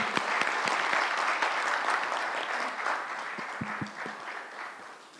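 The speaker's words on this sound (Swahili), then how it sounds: "Hiyo makofi haijatosha" An audience at a formal Kenyan address applauds after the speech, sustained dense clapping from a large crowd with a few sharp individual claps standing out, gradually thinning toward the end.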